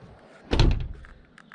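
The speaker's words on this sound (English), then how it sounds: "When you close the doors, listen" A single heavy Iveco S-Way 530 truck cab door shuts with a solid thunk, close by, followed by faint rattling and settling sounds.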